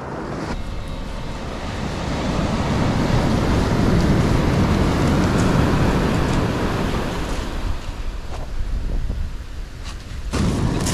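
Sea surf rolls onto a shore at incoming tide, a loud broad wash that builds and recedes over several seconds, roughened by wind buffeting the microphone.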